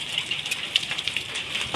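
Sleet and rain falling during a storm in Jharkhand, a steady close patter with scattered sharper ice hits on a surface, no talking.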